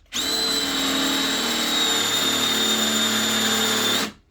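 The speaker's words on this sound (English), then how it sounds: "Drill the hole, pick up the other tool," Cordless power drill boring a hole for a steel trailer-hitch step, one continuous steady whine lasting about four seconds, starting and stopping abruptly, loud and close with no talk.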